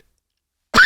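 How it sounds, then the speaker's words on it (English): After near silence, a single sudden, loud, harsh cough bursts out close to the microphone and carries on raspily to the end. "as I cough my guts out"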